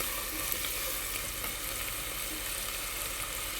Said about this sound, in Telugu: స్టవ్ పైన బాండీ పెట్టుకుని సరిపడా నూనె వేసుకోండి. ఇందులో ఉల్లిపాయలు వేయించుకుందాం.